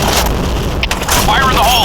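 A grenade explodes in the online shooter Point Blank as a dense, rumbling blast that fills the whole moment, layered with ongoing game noise and a brief voice near the end.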